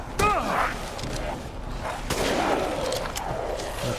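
In Resident Evil Village, a sniper rifle fires a sharp, loud shot near the start, and a second heavy crack follows about two seconds later amid game sound effects and voices.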